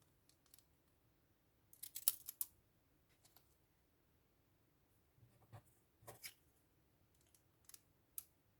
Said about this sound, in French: Ce que je prends, c'est ciseaux